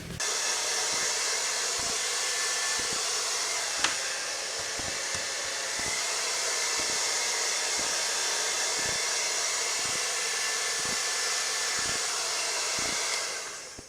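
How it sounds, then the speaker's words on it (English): A hair dryer blows continuously with a loud, steady airy roar, a faint regular pulsing beneath it throughout, used while installing a seat cover on a Yamaha Banshee 350. "You can try a hair dryer."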